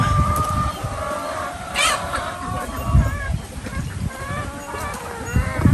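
Chickens cluck and squawk repeatedly nearby, with some honking fowl calls mixed in over rustling background noise.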